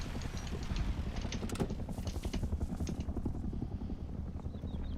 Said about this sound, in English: Someone's trying to tag the heli from over there.